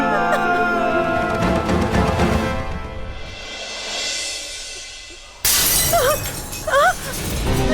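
Glass shatters in a Tamil television drama scene. A sudden loud crash breaks in partway through, layered over dramatic music.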